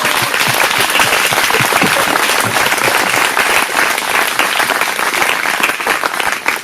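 Church congregation applauding together, loud sustained clapping from many hands filling the room, dense and continuous with a few voices mixed in.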